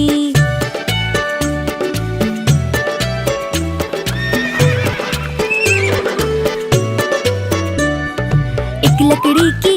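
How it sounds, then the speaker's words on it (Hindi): Horse whinnies and steady clip-clopping hooves in a bouncy Hindi children's rhyme song, the rhythmic hoof beats and a neigh blended into loud music. "एक छबीला घोड़ा था, एक छबीली घोड़ी थी"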